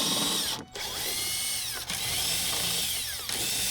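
A power tool spins a 10 mm socket to back out fender liner bolts on a Jeep JL, a steady high whirring run broken by brief pauses between bolts, close and loud.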